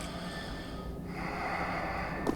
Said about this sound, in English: Those are some loud snores.